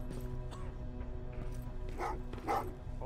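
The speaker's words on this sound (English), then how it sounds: "Well, what's with the dogs?" Dogs in the video game Terminator: Resistance bark and yip in short bursts at a moderate distance, over low background rumble and ambience.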